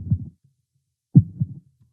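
Two deep, muffled thumps from a low impact sound effect pitched down by seven semitones, each followed by a short rumbling tail, separated by a brief silence and heard alone.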